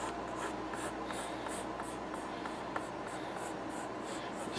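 Pencil sketching a rounded dome-shaped head for a cartoon character on paper, a steady close scratchy scribble with rhythmic repeated strokes throughout, no talking.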